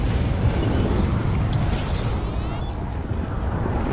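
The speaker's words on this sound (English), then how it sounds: "that's the sound of the Guardian getting ready to depart" In the video game Halo 5: Guardians, a Guardian prepares to depart with a deep, continuous rumbling roar, a steady loud low drone with faint airy whooshing above it.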